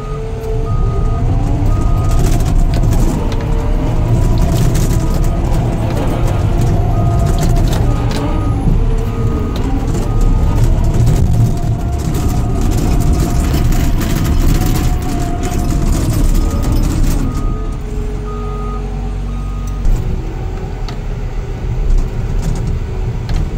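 A D6 Cat bulldozer plows snow on an Idaho backcountry mountain road, its heavy diesel rumbling loud and continuous with clanking tracks and repeated reversing beeps throughout.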